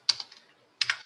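Two sharp clicks of the Enter key on a computer keyboard, about 0.7 seconds apart. Each is a crisp, close keystroke with a slight rattle, against near silence.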